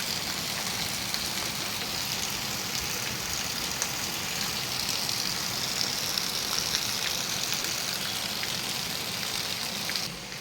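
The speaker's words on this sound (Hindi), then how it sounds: "बारिश जो है बहुत तेज़ हो रही है" Heavy rain pouring down in a foggy village setting, a dense, steady hiss of drops drumming on surfaces, loud and unbroken for the whole stretch, alone with no voices.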